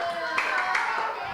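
Children at a church Sunday school service clapping together, a brief burst of soft, close clapping with a few sharper hits, while a faint voice carries underneath.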